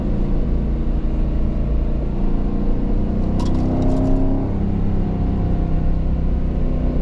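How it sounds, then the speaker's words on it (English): A 2023 Aston Martin Vantage F1 Edition during a handling demo, with a loud, steady engine drone heard from inside the cabin and a brief rise in pitch partway through. "Look at how quick this car is, so quick to respond to your steering inputs."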